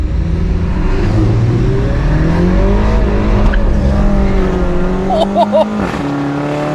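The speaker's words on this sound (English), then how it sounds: "when you downshift, it's just a symphony of pops and crackles" A track-modified Mini Cooper hot hatch engine drones loudly and then drops in pitch on a downshift, followed by a short cluster of exhaust pops and crackles near the end, all close and continuous.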